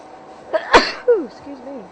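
A single sharp human sneeze bursts out close and loud during an outdoor birding drive, followed by brief bird calls and faint background noise.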